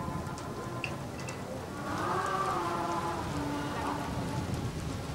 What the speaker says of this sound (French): le vent se lève et la pluie se met à tomber